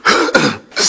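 A man clears his throat and coughs in a Vicks Blue TV advert, giving three short, loud, close bursts in under a second.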